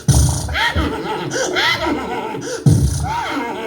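A man imitates a horse neighing, giving two loud, wavering whinny-like vocal bursts with breathy snorting sounds in between.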